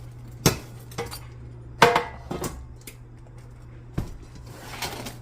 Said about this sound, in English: So now we're going to cut it. And it sounds very crispy.